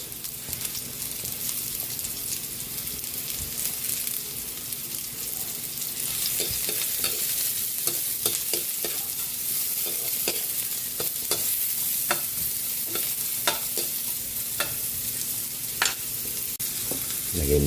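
Carrots sizzle and fry steadily in a hot pan while being stirred, with a constant close crackle and scattered scraping taps of the utensil throughout.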